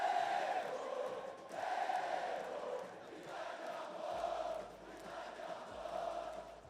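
Red-and-black Vitória supporters roar and chant together at a packed Barradão stadium, a broad, sustained crowd sound that swells and dips in waves without pause.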